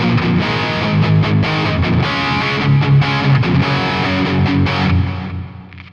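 Live distorted guitar played over a bass and drum loop through a Digitech Trio Plus, a dense, loud mix with driving rhythm throughout before tapering off at the end.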